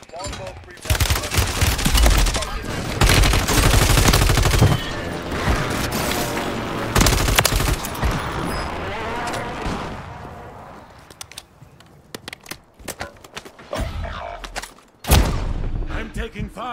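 Heavy gunfire in the video game Warzone, sustained bursts of automatic fire and booming shots rolling across the clip, loud and close, thinning into scattered sharp cracks near the end with a final big blast.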